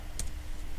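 A computer mouse or keyboard clicking twice during an online BLIK payment, short crisp clicks that are faint against a low background hum.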